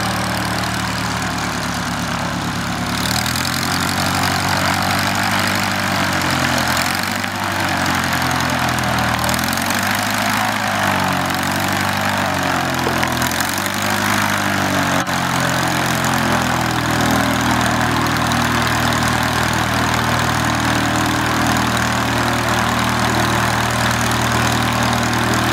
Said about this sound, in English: Collection pilot Rob Millichip flying the Bristol box kite for you this evening.